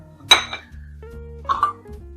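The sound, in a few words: small baking dishes being handled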